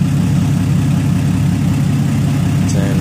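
A Ford Falcon FG LPI engine with a T70 turbo, 80-pound injectors and E85 fuel idles steadily in a BF Falcon wagon at first startup, a loud, close, even low rumble with no talking.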